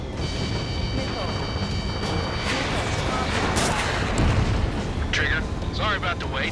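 Missiles launched at anti-air guns during an Ace Combat 7 jet mission, a dense roaring whoosh of launches and booming impacts over constant engine and battle noise, with brief radio-style chatter blips.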